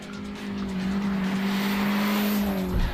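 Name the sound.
front-wheel-drive car wheel spin, tire squeal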